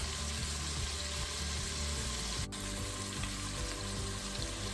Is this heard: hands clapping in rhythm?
no